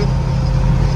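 A 1968 Camaro with a Blue Print 400 small block rumbles steadily while driving, a loud, even low drone with road noise and no voices.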